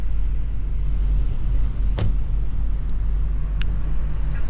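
Traffic rumbling steadily past in the Flashing Lights police game, a low continuous engine drone with no talk.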